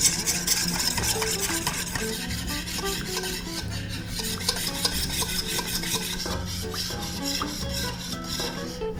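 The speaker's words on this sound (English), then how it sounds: "I'm gonna add in this hot sauce into the egg yolk cream mixture and continue to whisk" Hot sauce being whisked into an egg yolk and cream mixture for chicken fricassée, a fast, rhythmic scraping and clinking of a whisk against a bowl, close and continuous without talking.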